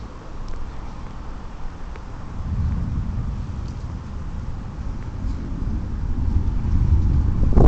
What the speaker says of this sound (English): Oh, listen to that thunder.